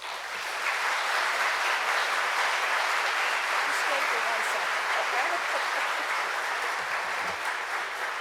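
Steady applause from a large audience fills the space, an even wash of clapping that continues without pause, with faint voices underneath.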